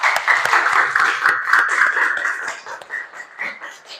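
Classroom of students applauding together after group presentations in a lesson, a moderately loud patter of clapping hands that gradually thins and tapers off, with scattered sharper claps standing out.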